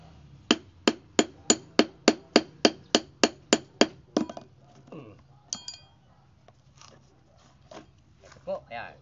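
Hammering during tire vulcanizing, about fourteen sharp, evenly spaced metallic strikes close by, followed by scattered lighter taps and clinks.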